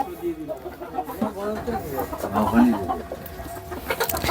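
Frightened chickens in a coop where a cobra was hiding, a cluster of agitated clucks and trilling calls close by, mixed with a person talking.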